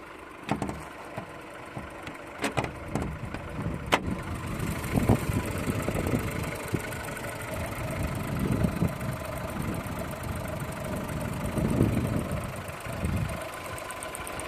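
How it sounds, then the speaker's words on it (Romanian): A VW Golf IV engine idles steadily with the hood open, a continuous low mechanical hum with a faint rhythmic ticking, heard close and alone after a few sharp clicks at the start. "Să deschid capota să vedeți și să auziți motorul"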